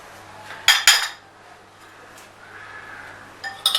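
A spoon clinks against a mixing bowl as cream fruit chaat ingredients are combined: a couple of sharp, bright clanks close by, a quiet stretch, then a few more clinks at the end.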